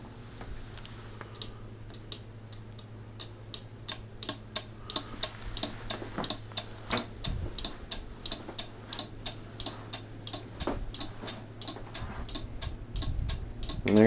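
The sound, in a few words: DIY railroad crossing light flasher clicking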